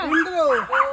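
A village dog gives a quick pair of close, loud barks and yips, sharp and brief.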